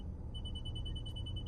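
Reverse parking sensor on a bike beeping as it backs toward a wall during a tight U-turn, a steady high-pitched continuous tone over low rumbling background noise, with no talking.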